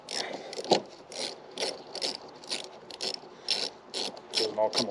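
Ratchet wrench snugging down a 12 mm bolt during car battery work, a series of quick clicking bursts in an uneven rhythm, close and fairly loud, with no talking.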